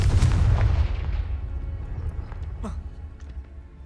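Confringo spell blasts in the Hogwarts Legacy video game go off as a heavy booming explosion at the start, then decay into a fading rumble with a few smaller crackling pops and bursts.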